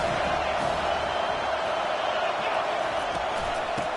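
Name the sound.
crowd noise rising on third down in a college football video game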